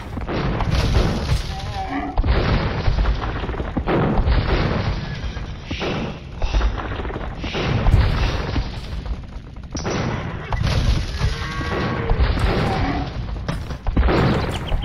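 Cannon fire pounds a castle during a real-time strategy battle, with dense, continuous booms and crashes of impact layered over loud game effects and a commentator's voice.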